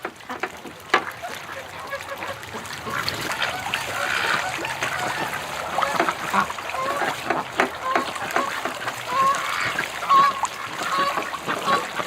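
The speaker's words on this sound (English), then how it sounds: "Oh, the goose, they're coming right in." Geese honk repeatedly over rushing water and splashes, the calls loud and overlapping as the birds land nearby, with faint voice-like sounds mixed in.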